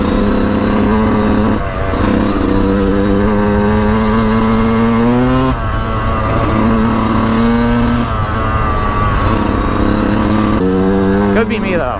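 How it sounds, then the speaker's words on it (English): A Yamaha YZ125 two-stroke dirt bike with an aftermarket YZ125X CDI box runs loud and close on a trail, rising and falling in pitch through several revving pulls and sputtering rolls-on from low RPM, with talk mixed in. "how sputtery my bike sounds in this clip"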